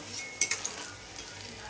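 Food fries in oil in a pan with a soft, fairly faint hiss, and a few quick clinks of a utensil against the pan come early on. No one talks.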